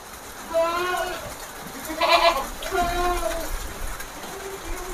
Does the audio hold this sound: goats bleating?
yes